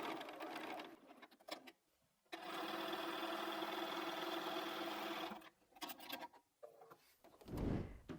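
A sewing machine stitching a boat quilt block for a cushion, its motor whirring in steady bursts with short pauses between runs, close and fairly quiet.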